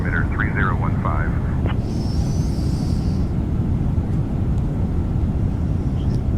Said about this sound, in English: That was a flawless takeoff.